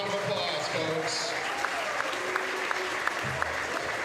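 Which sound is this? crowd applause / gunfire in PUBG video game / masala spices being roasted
crowd applause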